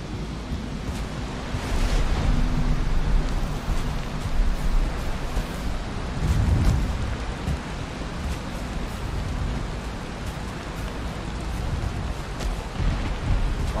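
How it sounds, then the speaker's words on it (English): Steady rain falls in the game Valheim, a broad, continuous hiss that swells slightly in places, heard alone without talk. "The rains are setting in."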